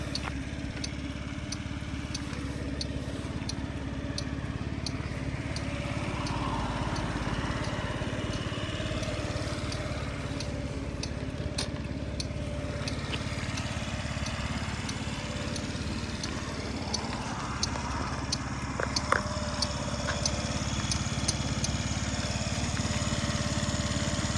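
A 2020 Yamaha Jog AY01 fuel-injected four-stroke scooter idles quietly and steadily, a low even engine hum with no revving, heard close and unbroken throughout.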